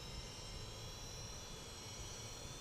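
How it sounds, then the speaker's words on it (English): An aircraft engine starts up in Microsoft Flight Simulator 2020, giving a steady, even roar with a constant high whine, fairly quiet and unbroken, with no voices over it. "engine is starting"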